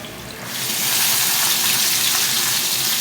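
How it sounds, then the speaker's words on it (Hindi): Fish sizzles in a hot pan for fish pulao, a steady hissing fry that swells after a quiet start and then holds loud and continuous. "पहले एक साइड से थोड़ा हम फ्राई कर लेते हैं।"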